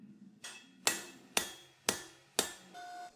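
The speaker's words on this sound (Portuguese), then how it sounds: "O martelo que tenho usado muito é um Doghead de 4 libras do Ilha." A 4-pound dog-head hammer strikes a twisted Damascus steel Viking seax blade at the forge, five sharp ringing blows in a steady rhythm about half a second apart, close and isolated.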